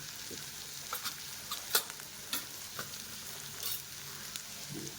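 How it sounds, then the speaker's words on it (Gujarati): Spices, including red chili powder, stirred in a pan in a village kitchen: a soft, steady frying sizzle with light scraping strokes and a few sharper clinks, moderately close, no talk. "લાલ મરચું બધું મિક્સ કરી લઈએ"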